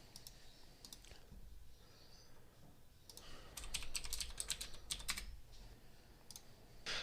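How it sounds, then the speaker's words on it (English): Quiet clicking of keys on a computer keyboard in irregular bursts, faint and close, with brief pauses between runs of typing. "we're going to start typing some code"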